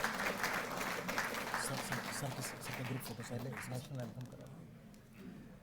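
A crowd at a felicitation ceremony for Asian Games medal winners applauds with dense, sustained clapping that fades out gradually, while a voice speaks over it.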